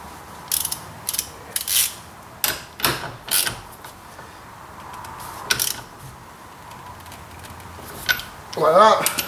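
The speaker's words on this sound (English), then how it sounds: "Get your nut. Put that back on. Tighten it back up." A nut tightened back onto a Toyota Aygo indicator stalk, giving a series of sharp ratcheting clicks in short bursts, close and fairly loud, with some mechanical rattling near the end.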